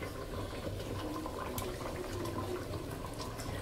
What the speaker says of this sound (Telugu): అక్కడ కడిగింది కాకుండా కుళాయి దగ్గర మళ్ళీ ఇంట్లో కడుగుతానండి కొత్తిమీర.